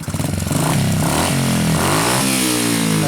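A car engine in a car being prepared for a JDM festival revs hard as the gas is pressed, climbing loudly from a rough idle into a sustained high roar.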